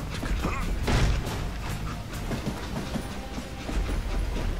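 A rumbling train rolls along in Call of Juarez: Gunslinger, its wheels clacking and cars creaking steadily, close and fairly loud without a break.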